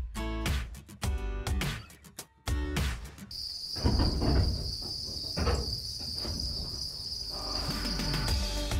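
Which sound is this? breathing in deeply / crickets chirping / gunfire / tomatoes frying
crickets chirping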